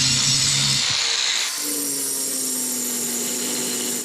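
An angle grinder smooths welded nuts on a steel bicycle frame, giving a loud, continuous abrasive whine with a brief pause and a shift in tone partway through.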